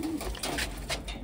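Pigeons of the Wantai breed coo softly at close range, a short run of low throaty calls with no talk over them.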